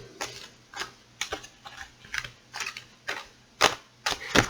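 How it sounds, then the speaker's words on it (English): Repeated soft slaps and flutters of tarot cards being shuffled, about ten short bursts in an irregular rhythm, close by and fairly quiet. "People who take care of their tarot cards shuffle like this."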